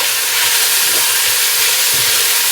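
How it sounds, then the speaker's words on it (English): Onion and whole pepper sizzle in hot oil in a pan for fried cabbage, a steady loud frying hiss throughout with faint low stirring bumps underneath and no voices. "We're going to sweat down the onion"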